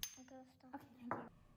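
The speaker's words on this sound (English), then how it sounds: "tapping a glass with a knife" A knife taps a glass in a few bright, ringing clinks spaced a fraction of a second apart, each leaving a short shimmering tail, close and clear with a quiet hum beneath.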